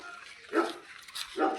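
Two short barks from a caged dog at an animal and bird shelter, moderately close, separated by a brief pause with background noise.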